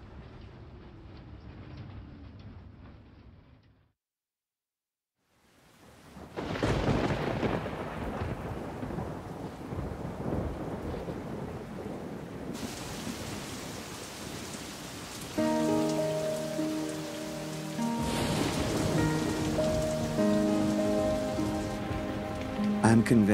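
Heavy tropical rain and thunder on the Panama isthmus. A short earlier stretch of rain drops to near silence, then a loud downpour returns with rolling thunder. A steady tonal hum joins the roar later.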